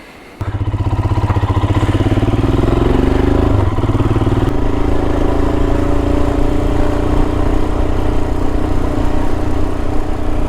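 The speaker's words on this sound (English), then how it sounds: "It's just lovely, isn't it, having a little pootle around on the bike." Motorcycle engine on a ride through the countryside near Colston Bassett, starting up and then holding a loud, steady, close drone with a faint rattle and slight shifts in pitch.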